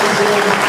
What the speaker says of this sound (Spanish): Bienvenido, un aplauso.